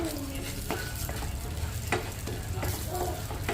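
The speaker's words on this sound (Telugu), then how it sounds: "దీంట్లో పచ్చిశనగపప్పు తర్వాత మినపప్పు వేసుకొని ఫ్రై చేసుకోవాలి" Chana dal and urad dal crackle softly in oil while a spoon scrapes and stirs the pan now and then, close and fairly quiet.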